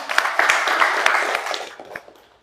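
Students in a religious-education classroom give a short burst of applause, a quick flurry of claps that fades away within a couple of seconds.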